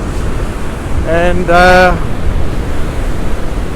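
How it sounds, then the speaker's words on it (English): Rough sea waves pound into a tidal pool at low tide, a steady loud wash of surf and wind with someone speaking briefly over it midway. "the sea is pounding into that pool down there"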